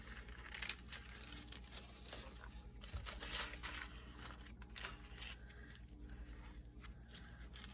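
Paper being cut with scissors for an art journal, a steady run of crisp crinkling snips and rustles close by, continuing without pause.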